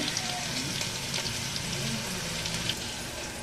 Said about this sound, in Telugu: కరివేపాకు అయితే డ్యాన్స్ అవుతుంది